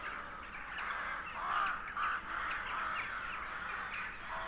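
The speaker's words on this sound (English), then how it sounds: "These rows of trees provide an ideal nesting area for the rook colony." A rook colony nesting in rows of trees gives off repeated harsh cawing calls, several overlapping, at moderate distance above a quiet outdoor background.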